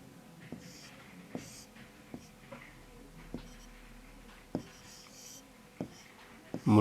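A word being handwritten on a surface as a lesson goes on, with soft scratchy strokes and small taps spaced across the stretch, faint and close, under quiet speech.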